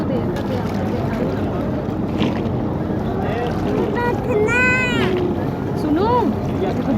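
A wooden oar-rowed boat on the Ganga river at Dashaswamedh Ghat in Varanasi, with steady water and wind noise throughout, a few bright chirps and whistles midway, and people talking nearby.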